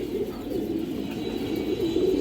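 A female pigeon coos in soft, low, rolling phrases, close and steady, with no talk over it.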